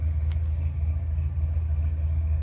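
An 80s El Camino with a big block V8 on nitrous idles some distance away, a steady deep low rumble with a slight uneven lope and one brief faint click, with no talking over it.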